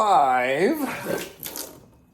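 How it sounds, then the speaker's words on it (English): Water pours and splashes while sprouts are rinsed in a jar at home, a short run of sloshing and trickling that tails off into quiet, with a voice at the start. "So we are now rinsing out. First rinse of the day"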